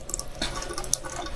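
Stale water pushing through an old sink pipe in an abandoned building makes a soft, continuous trickle and gurgle with small splashes and drips, fairly faint and close.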